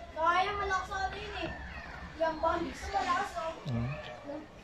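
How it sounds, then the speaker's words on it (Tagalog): Children play noisily near a computer shop, their high voices calling and chattering in overlapping bursts at moderate distance, with no single voice standing out. "Medyo maingay dito kasi may computer shop. Mga bata."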